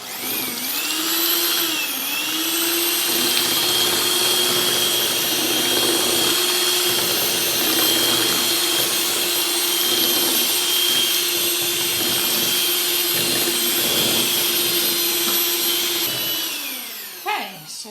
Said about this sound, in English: you're mixing so you can combine all that flour